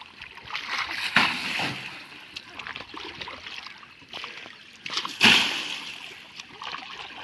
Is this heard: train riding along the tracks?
no